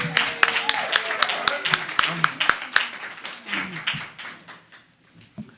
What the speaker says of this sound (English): let's have a round of applause for the champ of Brooklyn, New York.